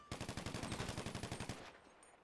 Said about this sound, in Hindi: ऊपर से फायर हो रहा है.